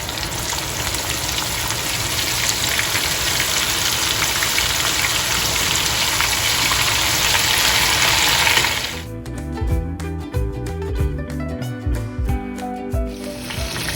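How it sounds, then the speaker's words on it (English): Dry cod fish frying in hot oil gives a loud, steady hiss and crackle for several seconds, then breaks into sparser sputtering pops and clatter as the frying changes. "I'm going to fry my dry fish in here till golden brown"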